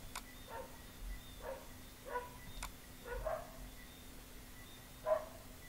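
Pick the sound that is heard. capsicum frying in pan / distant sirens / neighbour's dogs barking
neighbour's dogs barking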